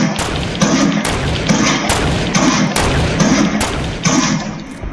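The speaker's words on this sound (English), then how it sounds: "I'm just shooting at him right now" Repeated gunfire in the Fortnite video game comes as loud, heavy thudding bursts at roughly even intervals, each shot a sharp close boom over a continuous background din.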